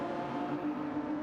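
Honda race car engine in a GT3 racing video game, a steady sustained drone with a strong tonal hum, continuous and fairly quiet through the turn, no voices.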